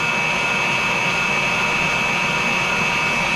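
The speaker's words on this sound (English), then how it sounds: "you're going to give it a nice long mix, maybe about a minute. Just get it whisked." An electric mixer whisks cheesecake batter with flour, giving off a loud, steady, continuous whir with a faint high whine and no pauses.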